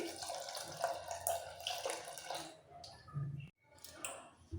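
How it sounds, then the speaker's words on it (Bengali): Lukewarm water pours into a pot of sour dal made with raw mango, a close, moderate splashing gush that stops briefly and then resumes. "একটু হালকা উষ্ণ গরম জল অ্যাড করে নিচ্ছি"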